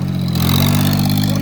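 A 4x4 tractor stuck in a pit roars in a loud, steady, close revving drone with a faint rattle.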